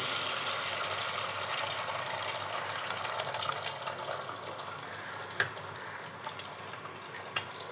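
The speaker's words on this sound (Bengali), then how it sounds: "তেলটা গরম হয়ে গেছে, এর মধ্যে আমি ডিমগুলো দিয়ে দেবো" Eggs fry in hot white cooking oil, giving a steady, bright sizzling hiss with a few scattered pops and crackles. The sound is close and fairly loud, with no talking over it.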